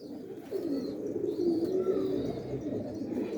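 Pigeons of an old bloodline cooing close by in a loft, a low continuous throaty rolling coo with faint chirps above, alone without speech.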